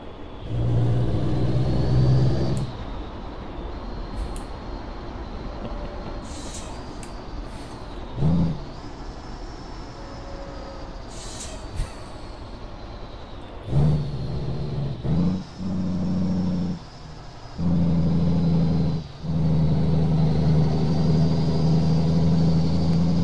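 A Peterbilt 389 outlaw-style truck in American Truck Simulator drives along with a steady, deep engine drone, broken by several brief dips and surges as it shifts gears and revs back up.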